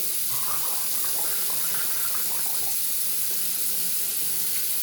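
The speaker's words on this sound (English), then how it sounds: "Pour the water." Salt water for gargling runs in a steady continuous stream throughout, close and fairly loud, with a bright splashing hiss and no talking.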